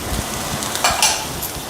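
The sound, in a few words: vegetables (beans, cabbage, green chili) sautéing in a pan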